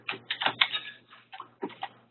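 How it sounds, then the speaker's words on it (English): Quick bursts of key clicks as a website address is typed on a computer keyboard, two clusters of crisp taps separated by a short pause, close and clear with no talking. "I will type in the website here."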